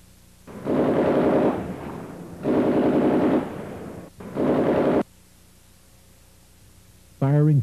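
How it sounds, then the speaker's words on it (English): Three long, loud bursts of rapid automatic gunfire, close by, separated by brief pauses, during the North Hollywood shootout in Los Angeles. "Phillips took cover before unleashing another barrage of gunfire."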